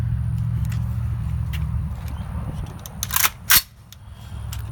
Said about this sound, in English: Now you're going to pull back on the lever, okay? Charging handle. pull back, let it go.